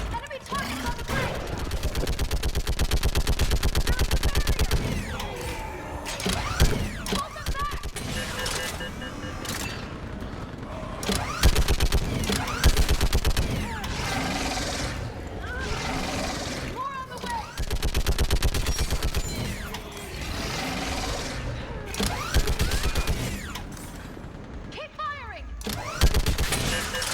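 Mounted gun in Mass Effect 3 firing at enemy targets, with dense rapid automatic bursts running almost continuously amid loud combat noise, while voices talk over the shooting.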